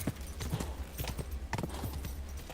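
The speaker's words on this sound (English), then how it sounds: "You tire the horses out too much, they start kicking you off and shit." A horse galloping in a video game, a steady run of hoof clip-clops with a rapid, driving rhythm that stays at an even, fairly loud level throughout, with no voices.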